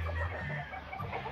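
Hens and a rooster on a farm, a soft, steady clucking close by with low, rough calls that carry on throughout.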